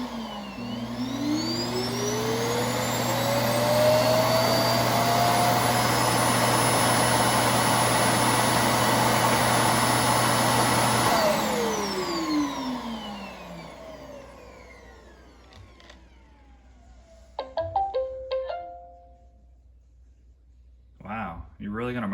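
A robot vacuum, an iRobot Roomba S9+ or Roborock S5, runs with a loud, steady whirring hum for about eleven seconds, winds down and stops, then a few short electronic tones and a voice follow.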